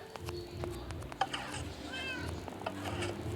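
A Minecraft cat meows softly a few times in a quiet game scene, faint and intermittent against low background noise.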